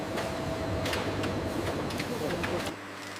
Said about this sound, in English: Threads are woven into fabric using powerful looms.